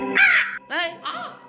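A crow in the horror video game Granny gives three harsh, close caws in quick succession.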